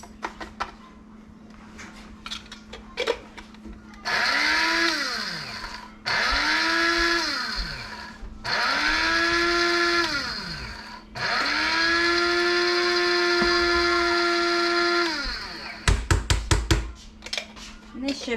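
An electric grinder pulverizes dried onions into onion powder in four loud bursts of whirring, the motor pitch sagging and recovering as the pieces break down, with short pauses between runs and light handling clatter at the end.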